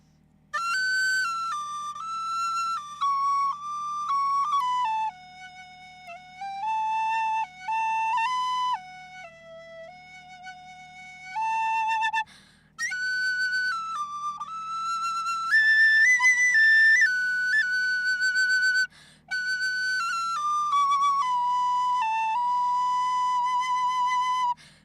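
A whistled melody from Freerin, sustained pitched tones moving up and down in phrases with brief pauses, clear and fairly close, no talking.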